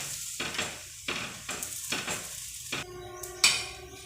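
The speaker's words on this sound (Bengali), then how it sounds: "এইভাবে আমি একটা একটা করে সবগুলো সুজির রুটি ভাজা করে নেব" Semolina flatbread fries in a pan with a close sizzle, cut by regular stirring or flipping scrapes about every half second and a sharp utensil clink near the end.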